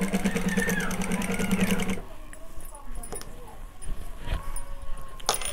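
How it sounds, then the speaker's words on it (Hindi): A sewing machine stitches a blouse in a rhythmic, fast mechanical chatter for the first two seconds. It then stops, leaving handling sounds and someone talking. "इसकी सिलाई देखिए, बहुत अच्छे से और बहुत अच्छे से इसकी सिलाई हो रही है"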